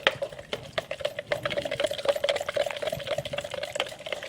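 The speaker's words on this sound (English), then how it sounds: "Give it a stir." Red-coloured water being stirred in a bowl while making gloop, a steady close-up swishing and sloshing with small liquid splashes throughout, no voices.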